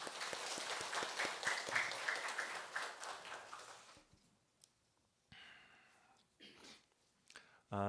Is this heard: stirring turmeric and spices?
no